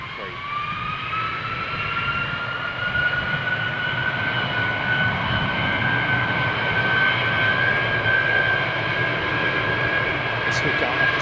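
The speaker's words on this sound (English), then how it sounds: "Three-stage spool up on the RBs." Rolls-Royce RB jet engines on an airliner spool up at Heathrow Airport with a loud, rising whine and rumble that climbs steadily and holds across the whole stretch, heard fairly close.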